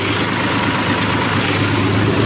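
A tractor hauling a trolley loaded with gravel for a new house foundation runs loud and close, its engine a steady, dense rumble with no pauses.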